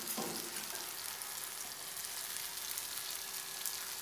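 Idlis fry in oil in a pan with a continuous bright sizzle and crackle. A brief knock sounds at the start, and there is no speech.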